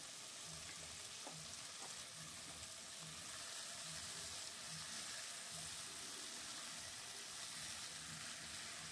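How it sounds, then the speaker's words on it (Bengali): Ginger paste and sliced tomato frying in a pan for oats khichdi, a steady low sizzle running throughout with faint scraping of a spatula, moderately quiet and close, no voices. "এবার কষিয়ে নিচ্ছি আদাটাকে।"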